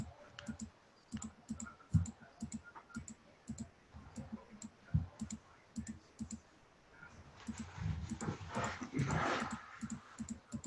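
Mouse clicks tapping away at a computer desk in sharp, irregular bursts, fairly close but quiet, with a thicker stretch of background noise toward the end.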